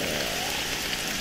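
Steady rain falls during a night soak in a hot spring, a dense, even hiss of drops on water and surfaces with no voices heard over it.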